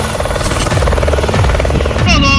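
Small aircraft engine running up for takeoff, a steady loud drone with a propeller-like buzz filling the cabin while people talk over it.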